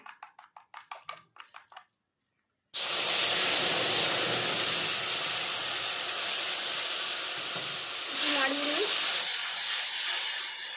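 Mustard paste hits hot oil tempered with black cumin after frying tengra fish, setting off a sudden loud, steady hiss of sizzling that follows a few brief clattering sounds and then holds for several seconds.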